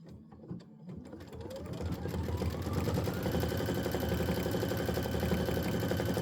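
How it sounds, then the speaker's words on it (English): An embroidery machine stitching out a Halloween Boo Manor tile design in a 6x10 hoop, starting with a few clicks and then settling into a steady, fast mechanical whir and needle rattle, close and continuous. "This is 3 minutes of stitching."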